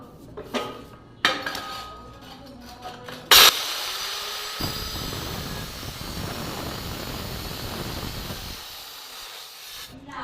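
A metal barfi cutting frame machine slices through a tray of marble barfi, with a few sharp metallic clanks and knocks early on, then a sustained scraping, hissing grind that runs for several seconds before tapering off.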